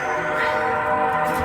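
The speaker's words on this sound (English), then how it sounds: "You can hear the train in the background." A train passes near a campsite, a loud, continuous rumbling roar with a broad steady wash of noise through the whole short stretch and no talk over it.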